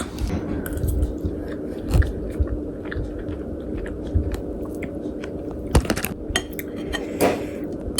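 Close-up eating sounds from a chicken and rice dinner: scattered clinks of cutlery on a plate, bites and chewing, over a low steady background hum.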